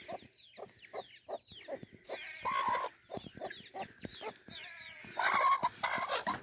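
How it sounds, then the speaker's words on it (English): Several chickens clucking and squawking close by in a backyard flock, busy overlapping calls with short bursts and a louder flurry near the end. "Look at them birdies."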